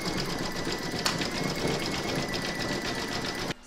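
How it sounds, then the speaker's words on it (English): An embroidery machine hums steadily and loud at close range as it stitches a satin-stitch edge on an in-the-hoop heart banner, a fast even buzzing that cuts off abruptly at the end. "pop your hoop back into your machine and stitch round number 7, and that's going to do the satin stitch on the left hand edge"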